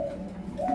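A big-bodied pigeon gives a short, low coo close by, a brief throaty hum that swells slightly at the end.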